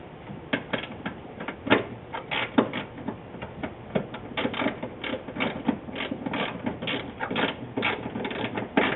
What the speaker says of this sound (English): Simply tighten with the wrench.